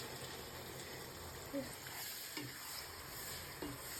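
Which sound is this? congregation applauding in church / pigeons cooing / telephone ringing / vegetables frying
vegetables frying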